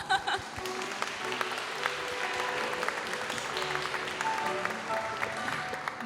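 Dense, steady audience applause fills a hall at an opera-themed stage show of Carmen in Tartu, with a few louder claps and faint voices mixed into the continuous wash.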